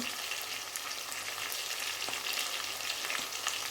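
Chicken fries in hot oil with a constant, fine crackling sizzle, close and moderately quiet, with no voices.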